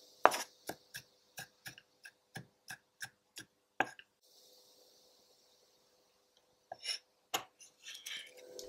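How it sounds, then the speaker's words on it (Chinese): A knife chops scallion whites on a board in crisp, evenly spaced strikes, about three per second, pauses for a few seconds, then resumes with a few more cuts. "大葱取葱白的部分，先把它切成条，之后呢也切成末。"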